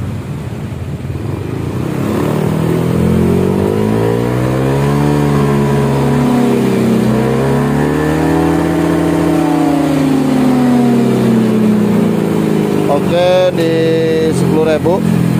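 A Yamaha Aerox scooter with a reworked ROB1 exhaust revs hard and steadily, its engine pitch climbing, easing and rising again in long sweeps, with a few brief high whines near the end.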